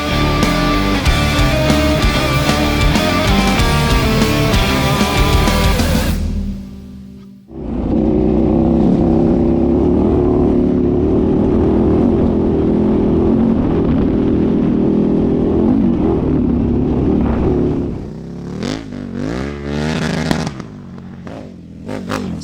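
A KTM 1290 Super Duke R with a 1,301 cc V-twin making about 180 hp roars loudly while accelerating off-road, dropping out briefly before surging again with a rough, crackling engine note.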